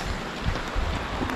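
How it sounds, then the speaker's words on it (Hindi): Heavy rain falls hard outdoors, a short burst of dense, noisy hiss and patter with a few dull low thumps, close and steady throughout. "पर यार बारिश बहुत तेज है"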